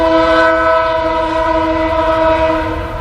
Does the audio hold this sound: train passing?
yes